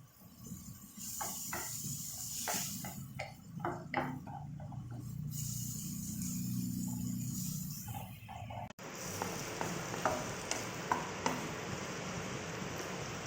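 Salted shrimp tipped into a pan for ayam penyet, then stirred and scraped with a utensil, giving soft hissing, clinks and light scraping over a steady background hum, with no talking.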